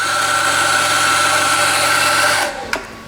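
A Mazzer coffee grinder grinds beans for a cappuccino with a loud, steady motorized whine and buzz close by, then winds down and stops, followed by a brief click.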